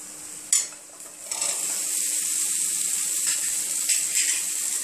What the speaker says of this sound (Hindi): अब इसमें अनारदाना पाउडर डालेंगे और साथ ही चने डाल देंगे।